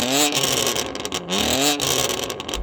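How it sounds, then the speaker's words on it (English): A sports car engine revs hard several times, rising and falling in pitch with a loud, throaty roar close by. "Right, Sam, rev up your car."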